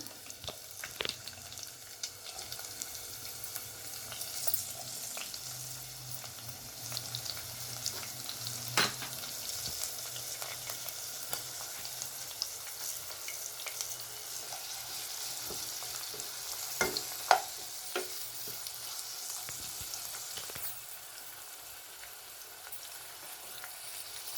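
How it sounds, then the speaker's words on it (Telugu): Green chillies and onions frying in hot oil for a Telangana boti kura: a soft, continuous sizzle with light stirring scrapes and occasional clicks, fairly quiet and without speech. "పచ్చిమిరపకాయలు వేస్తున్నాను ముందుగా. అలాగే ఉల్లిగడ్డ వేస్తున్నా."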